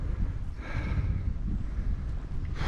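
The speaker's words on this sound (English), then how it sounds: "it's a bit of a fucking windy day as well" Wind gusting around an abandoned brickworks factory with tall towers, a loud rough rumble buffeting the microphone throughout, with a brief hiss of stronger gust near the end and no speech.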